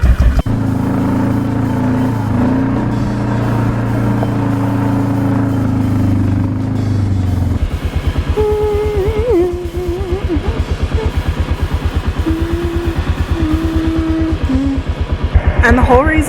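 ATV engine running steadily while riding back down a mountain on a farm trip, a loud close drone that shifts pitch partway through, with people talking over it.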